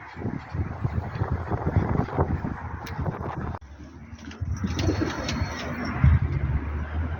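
Pigeons coo softly in low, repeated murmurs, with a mix of outdoor background noise, mostly steady with a brief quieter dip midway.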